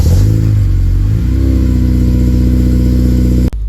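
An 8th gen Honda Civic Si with a Hasport rear engine mount pulls hard in first, revs climbing loudly before a shift into second, then the engine note settles lower and steady close by.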